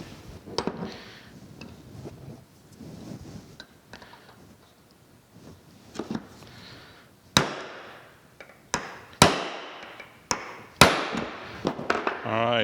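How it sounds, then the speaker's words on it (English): Sharp metallic strikes of a hammer on a punch drive a tapered pin into a spring-loaded handle in a machine shop, the blows coming irregularly and growing louder toward the end, with someone talking in between. "You get a hammer and punch."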